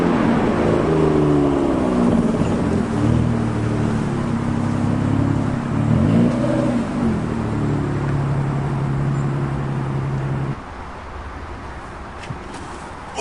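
An Aston Martin's engine and exhaust give a steady, loud rumbling drone with shifting pitch as revs rise and fall, then settle to a lower, quieter idle near the end; no one speaks.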